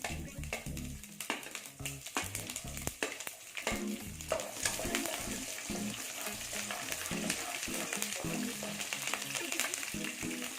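Ginger and green chillies frying in hot oil for Tamil-style mango rice, a steady close sizzle broken by repeated scraping stir strokes of a spoon in the pan, with no talking.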